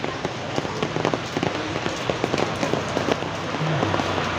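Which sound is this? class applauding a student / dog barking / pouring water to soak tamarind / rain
rain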